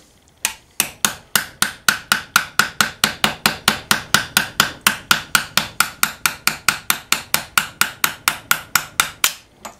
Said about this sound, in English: You can see I'm not hitting it very hard.